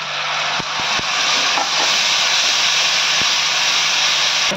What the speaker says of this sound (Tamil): அரைச்சி வச்ச தக்காளி ஊற்றிடுங்க.